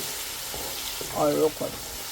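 Onions frying in a pot for village jollof give a steady close sizzle, with a brief louder burst of hissing and bubbling partway through and no talking.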